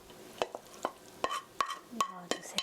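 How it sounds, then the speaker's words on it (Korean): Japchae being tossed and mixed with stir-fried vegetables, a series of sharp scraping and clicking strokes repeated every half second or so, close and fairly quiet, with a faint sizzle underneath and no talking. "고루 섞어주시고요"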